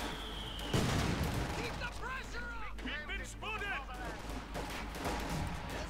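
Dense gunfire and distant explosions from a Company of Heroes 2 1v1 battle, with machine guns among the shots, rattling continuously under a commentator's voice.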